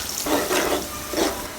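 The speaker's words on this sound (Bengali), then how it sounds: "আমার পেঁয়াজগুলো ভাজা হয়ে গেছে" Onions frying in hot oil in a pot for a beef and potato curry, a soft steady sizzle with brief louder bursts as they are stirred.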